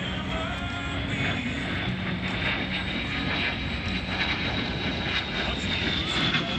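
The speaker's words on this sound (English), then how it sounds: "Air Combat Command's A-10 demonstration team proudly presents the dedication pass." An A-10 jet making a dedication pass at an air show, heard as a loud, steady engine roar that holds for the whole stretch, with a faint voice buried underneath.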